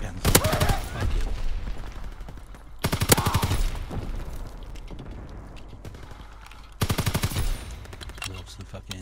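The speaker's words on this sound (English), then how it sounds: "Fucking shotguns." Shotgun blasts in the Call of Duty WWII video game, three loud booming shots spaced a few seconds apart, each ringing out over a low, busy battlefield rumble.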